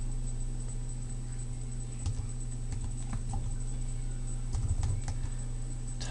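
Typing on a computer keyboard, heard as light irregular keystroke clicks in small clusters over a steady electrical hum.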